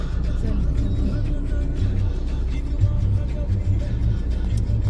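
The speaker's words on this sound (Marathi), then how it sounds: "श्रीराम पुलावरची ही ट्रॅफिक आहे." Road traffic crossing the Shriram bridge in Karjat, heard as a steady, dense low rumble of passing vehicles that continues without a break for the whole stretch.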